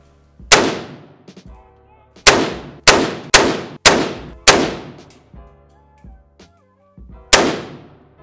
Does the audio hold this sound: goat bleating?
no